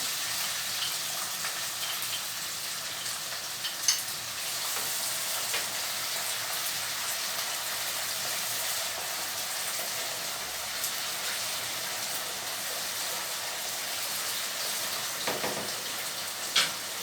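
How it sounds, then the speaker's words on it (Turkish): Two large onions and five or six garlic cloves sautéing in olive oil on an electric stove, a soft, steady sizzle that continues evenly with occasional faint knocks. "Soğanım burada bir güzel kavrulsun arkadaşlar."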